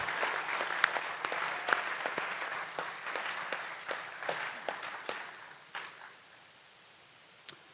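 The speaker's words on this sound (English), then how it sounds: "could you please join me in a round of applause for Ms. Valerie Powell" An audience at a high school senior honors assembly gives a round of applause, dense steady clapping that holds for several seconds, then thins and fades toward the end, leaving a few scattered claps.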